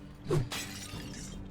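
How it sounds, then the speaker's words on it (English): Pots shattering in the video game Drova: Forsaken Kin, a quick crash with scattering fragments, loud and close, followed by a second smaller break. "So many broken pots."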